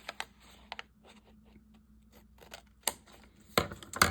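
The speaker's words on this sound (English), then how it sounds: "I gotta grab my scissors here, and I'm gonna trim this top part off" Scissors trimming paper for journal decorating: a few crisp, close snips and clicks spaced irregularly across a quiet background, the last cuts louder.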